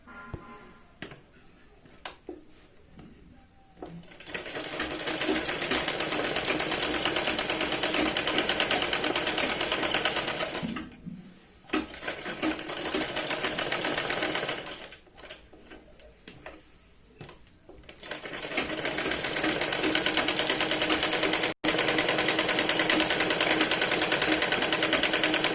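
A sewing machine stitches sherwani main fabric and lining together in several long, fast, close runs of ticking needle rattle, separated by brief pauses.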